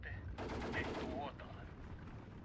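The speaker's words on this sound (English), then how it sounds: "More of these machine guns." Faint machine gun fire in the real-time strategy video game Steel Division 2, a brief rattling burst of rapid shots with a softer tail, heard distantly and alone.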